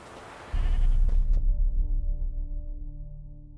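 A goat tied to a stake as bait bleats in The Witcher 3, a single loud wavering cry that fades into tonal game music.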